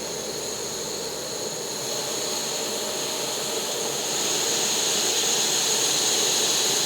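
An MSR Superfly camping stove burner runs on high with a steady, loud, broadband roaring hiss that swells a little partway through and then holds, no voices.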